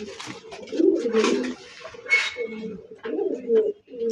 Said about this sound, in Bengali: এগুলো রাসগোল্লা কবুতর